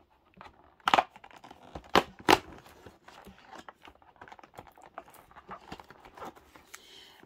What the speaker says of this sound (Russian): Теперь будем открывать шестое окошко.